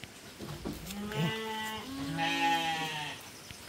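Goats and sheep penned on a farm during a typhoon bleat repeatedly in overlapping, drawn-out cries, close and loud, with no talking.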